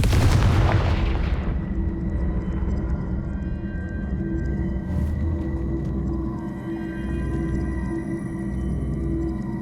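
Confringo spell blasts in Hogwarts Legacy on Nintendo Switch, one loud booming explosion at the start followed by a long, rumbling low decay and lingering tonal hum, with no voices.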